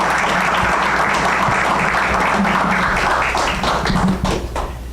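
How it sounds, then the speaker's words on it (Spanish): A conference audience gives a warm round of applause to welcome the speakers, dense loud clapping from many hands that swells and then tapers off near the end. "los recibimos con un caluroso aplauso"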